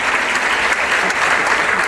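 Dense, steady audience applause at a bolero concert, loud and close, a continuous wash of many hands clapping with no pauses.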